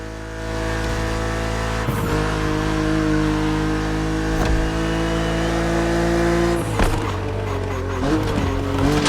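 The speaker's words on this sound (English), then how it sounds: "BMW Z models are what we call roadsters. Two-seaters made for relaxing behind the wheel, appreciating the scenery and the thrill of speed." BMW Z roadster two-seater engine in The Crew Motorfest racing game, a steady loud drone with rising revs and a brief tire squeal, shifting pitch near the end of the run.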